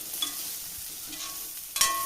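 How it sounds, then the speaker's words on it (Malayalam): Bitter gourd roasts in a pan while it is stirred, a low, steady sizzle broken by a few scraping stirs and a sharper clatter near the end, with no talking. "ഒരു ആറേഴ് മിനിറ്റോളം നമുക്കിതൊന്ന് റോസ്റ്റ് ചെയ്തെടുക്കണം"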